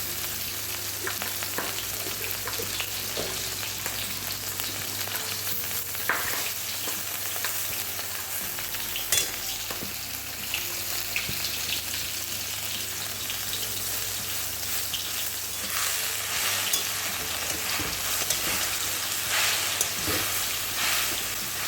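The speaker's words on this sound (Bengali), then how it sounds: "এই হলো আমার পাট শাক ভাজার স্টাইল" Jute leaves (pat shak) fry with garlic and chilli in a pan, giving a steady, close sizzle with occasional stirring scrapes that runs unbroken for the whole stretch, with no voices.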